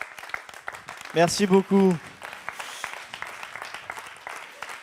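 Audience applause at a Paris success-day talk, a steady patter of clapping running under and after a brief spoken thank-you in French.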